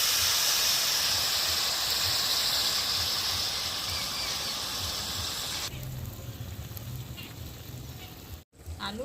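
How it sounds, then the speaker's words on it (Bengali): Water added to a hot pan of frying beetroot and potato bursts into a loud, steady hissing sizzle that gradually eases, then drops to a softer bubbling simmer near the end. "এবার আমি জল দিয়ে দিচ্ছি"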